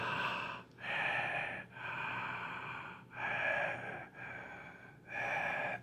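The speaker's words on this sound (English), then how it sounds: "If you listen to the in and out breath, it is." Slow in-and-out breathing, close and alone, a few long airy breaths in a steady rhythm with short pauses between them.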